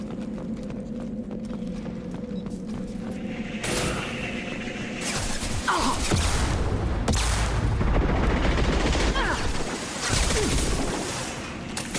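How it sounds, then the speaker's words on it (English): Shotgun gunfire in Mass Effect 2 combat: a steady droning hum first, then heavy blasts and booming impacts over a dense, loud noise bed, with a few sharp cracks standing out. "Shotgun!"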